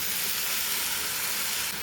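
Gobindobhog rice and two kinds of lentils being stirred in a hot pan, giving a steady, close broadband sizzle and hiss throughout, with no voices.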